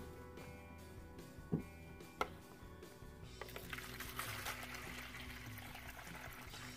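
Water poured into a shaving bowl, starting quietly with a couple of small knocks and then a steady, soft trickle and splash that continues through the latter half, close and faint.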